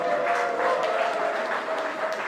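Audience applause at a year-end acoustic guitar concert and award ceremony, a steady dense wash of clapping held at an even level throughout.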